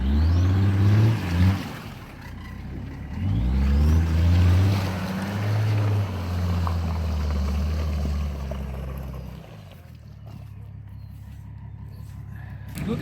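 A pickup truck engine labours low and heavy while driving up a steep offroad slope at night, rising and falling in strain with bursts of revving, close and loud throughout, with voices talking occasionally over it.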